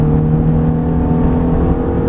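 A Ferrari F430 accelerates on a track, its engine holding a steady, loud, close-up howl with strong tonal harmonics throughout, and no talk is heard.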